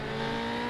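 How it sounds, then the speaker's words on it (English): A Formula 3 race car engine in the Automobilista sim, on track at the Kansai Suzuka circuit, screams at high steady revs against the limiter in a brief, loud, sustained tone. "As you can hear, using all the revs and more, hitting the rev limiter just a little bit"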